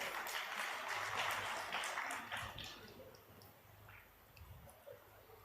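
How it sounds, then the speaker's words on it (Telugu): A church congregation claps together in a sustained, fairly loud patter of applause that gradually thins and fades toward the end. "సంతోషంతో చప్పట్లు కూడా దేవుని మహిమపరచండి."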